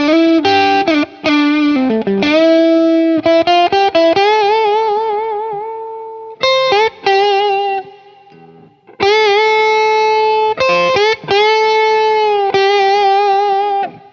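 Schecter Fastback II T-style electric guitar with a split humbucker pickup giving a thin, split-coil tone, strummed chords and sustained notes with short gaps, close and fairly loud, washed in effects and reverb.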